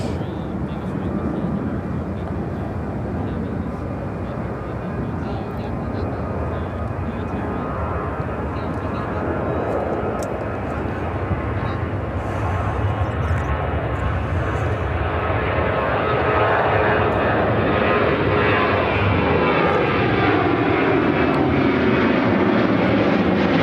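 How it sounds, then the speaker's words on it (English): A Cessna Grand Caravan propeller plane landing at Chicago O'Hare, a steady loud engine and propeller roar that swells slightly as it draws nearer, heard without talk. "Is that a Grand Caravan landing?"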